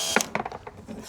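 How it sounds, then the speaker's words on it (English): A screw is backed out of wood while a bee bait box is being built, giving a brief run of close, sharp creaks and clicks from the driver and timber. "And then we shall unscrew it."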